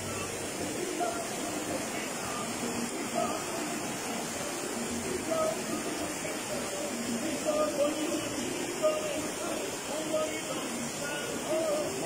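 A river flows in a steady, broad rush of water outdoors in nature, continuous and fairly loud, with no clear voices over it.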